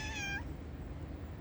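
A boldly patterned tomcat near a minibus gives one short, faint meow at the start, then only quiet outdoor background remains.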